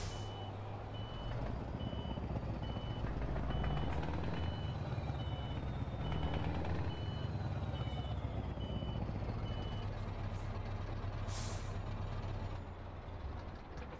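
Reversing beeps from a Scania R 620 truck in Euro Truck Simulator 2 sound as a steady, evenly spaced series of electronic tones over a continuous low engine rumble, with a brief hiss near the end.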